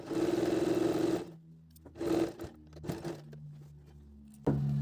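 Sewing machine back-stitching to secure a seam on a cut and stitched undershirt: a loud, rapid whirring run, then short stop-start bursts of stitching separated by pauses, ending with another burst, close and unaccompanied by speech.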